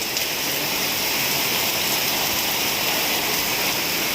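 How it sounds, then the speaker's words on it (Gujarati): Heavy rain pours down in a steady, dense hiss with no pauses, loud and close, filling the whole stretch with constant wash. "વરસાદ ફૂલ આવે છે"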